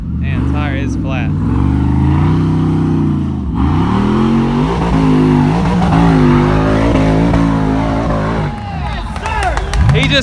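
An off-road racing vehicle with a bent front wheel and a flat tire climbs a steep hill at an off-road park, its engine revving hard and loud through the whole stretch, with crowd noise and talk mixed in.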